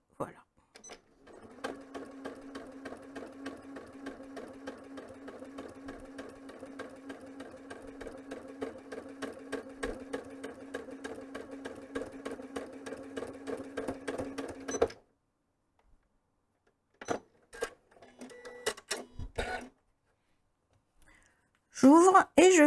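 A sewing machine runs steadily and close for about fourteen seconds, stitching a curved patchwork seam, then stops, followed by a few scattered clicks and handling noises.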